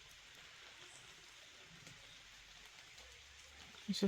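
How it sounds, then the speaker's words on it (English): Soft, steady rain falling outdoors in Red River Gorge, a faint continuous patter, with a brief louder knock near the end. "God, I hope it stops raining."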